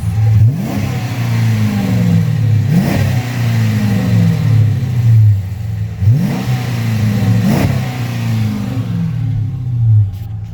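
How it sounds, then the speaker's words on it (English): A 2012 Dodge Charger's exhaust revs repeatedly over a steady engine rumble, each rev rising and falling in a loud, close, deep roar. "But that's the exhaust I wanted to show you guys."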